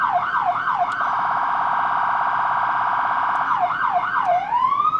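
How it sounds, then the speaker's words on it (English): A police car siren switches on loudly and close, cycling through a wailing yelp, then a rapid steady warble, then yelping again before winding down. "Push the siren? This actual siren button?"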